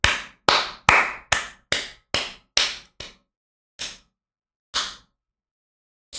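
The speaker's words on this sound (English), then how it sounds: "Clap it up, everybody." One person claps sharply and close by, with a quick run of about eight claps that slows and thins into a few isolated claps separated by silence.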